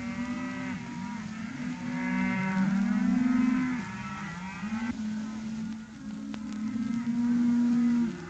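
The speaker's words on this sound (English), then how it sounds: "The boys are getting the cattle through without a hitch." Cattle being driven across a ranch in a 1937 western moo repeatedly, loud and close, several drawn-out calls overlapping above a steady rumbling background.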